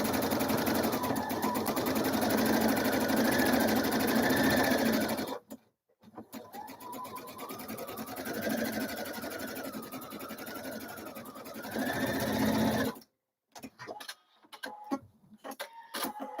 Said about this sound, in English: I'm sewing a cuff.